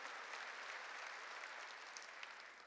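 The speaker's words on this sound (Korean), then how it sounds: "박수로 하나님께 영광 돌려요" A church congregation claps together in praise during a Korean sermon, a steady, dense wash of hands that holds evenly for a few seconds at moderate distance and tapers slightly at the end.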